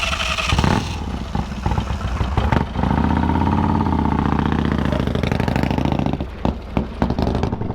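Harley motorcycle riding around the block after a repair, its engine rumbling loud and close, revving up into a steady drone then easing off with a few clattering bursts; no one speaks.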